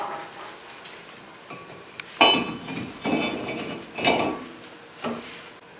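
A new front brake rotor goes onto a car hub with a series of metallic clanks and clinks, close and moderately loud, with no talking.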